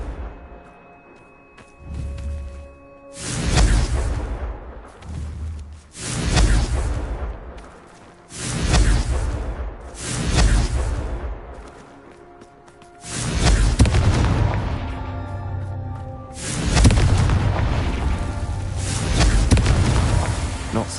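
In Hogwarts Legacy, repeated Confringo fire spells erupt into heavy booming explosions, roughly six loud blasts that each swell and fade into rumbling, with short pauses between them.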